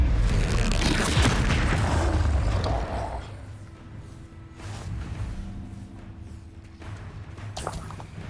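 A Confringo blasting spell goes off in Hogwarts Legacy with a heavy booming explosion and roar that fades into a low rumble, followed by quieter thuds and whooshes.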